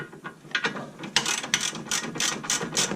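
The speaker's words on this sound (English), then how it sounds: "I always like to start on a ratchet." A hand ratchet turns a bolt on the lower wishbone suspension of a 2001 Volkswagen Golf Mk4 1.8T GTI, making a series of close, crisp clicking bursts in a steady working rhythm with no talk.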